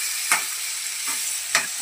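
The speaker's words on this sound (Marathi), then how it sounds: "हे सगळं परतून आपण त्याची ग्रेव्ही बनवणार." Tomatoes sauté in hot oil for a paneer gravy, with a steady close sizzle broken by three scraping stirs of the spoon at roughly even intervals.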